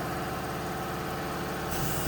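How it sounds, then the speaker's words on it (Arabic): A motor hums and idles steadily inside a car body repair workshop, a faint, even drone that shifts slightly near the end, with no talk. "اول كان شغال موتور هنا"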